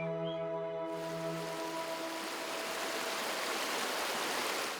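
A mountain stream rushes through a forested valley in Yeongwol, Gangwon, a steady broadband hiss of flowing water that sets in after a fading musical tone and continues evenly and quietly.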